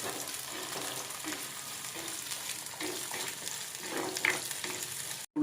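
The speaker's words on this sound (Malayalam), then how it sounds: "നന്നാക്കി വെച്ച ഉള്ളിയും കൂടെ ഇട്ടിട്ട് ഒന്നും കൂടെ മൂപ്പിക്കുകയാണ്." Onions sizzle and fry steadily in hot oil with ginger and green chillies for a Malayalam jackfruit seed masala curry, a continuous close crackle with occasional stirring scrapes and no talk.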